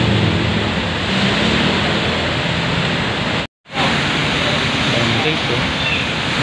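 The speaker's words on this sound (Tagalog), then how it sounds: "Sabay pa ng lakas ng ulan." Heavy rain pours down in Manila, a loud, dense, unbroken roar of falling water that cuts out completely for a split second midway before resuming.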